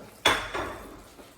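Freshly grated Parmesan is stirred into a mushroom and tomato risotto in a pot, starting with a sharp metal clank of spoon on pan and then a softer scrape and clink that fade out, close by.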